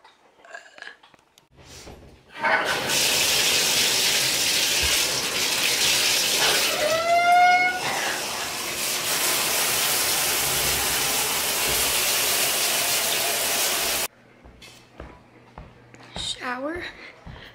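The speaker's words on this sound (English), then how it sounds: "might as well take a shower before I change" A home shower runs in a steady, close hiss of spraying water for about twelve seconds, beginning and ending abruptly, with a brief gurgle partway through and faint voices before and after.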